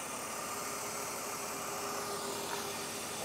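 A BMW E36 328i engine idles smoothly and steadily, a low even hum with a faint hiss, no speech over it.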